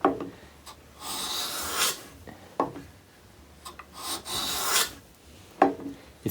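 A hand plane cuts wood in repeated strokes, each a breathy rasping swish with a small knock at the stroke's start, close and fairly quiet, with no talking.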